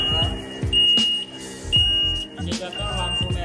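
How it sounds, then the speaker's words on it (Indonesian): An automatic dam gate's warning buzzer sounds as a piercing, steady high tone in repeated long beeps under someone talking. "Indikator buzzer menyala."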